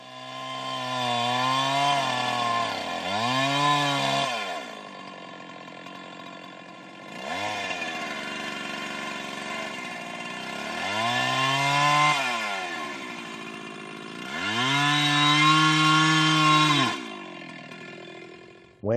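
A chainsaw bucks a log, running in three long bursts separated by near silence: each rises in pitch as the throttle opens, bogs and wavers as the chain cuts through the wood, then drops away.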